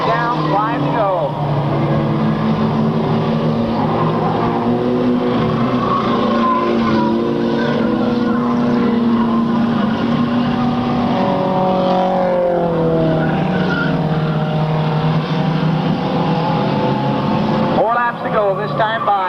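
Stock race cars roaring down the backstretch at a 1998 oval race, a continuous engine drone under a loud announcer's commentary throughout.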